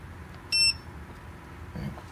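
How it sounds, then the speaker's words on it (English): A Klein NCVT-3P non-contact voltage tester gives one short, sharp electronic beep of detection, brief and clear over a quiet room hum, with nothing else after it. "When you press the button that quick, you get an audible detection. You heard the beep?"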